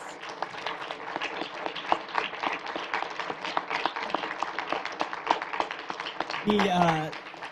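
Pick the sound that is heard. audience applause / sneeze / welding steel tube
audience applause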